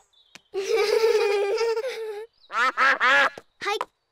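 Cartoon ducks quack at a picnic in a children's animated show, a long drawn-out nasal quack followed by a quick series of shorter, louder quacks, close and clear with no other sound beneath.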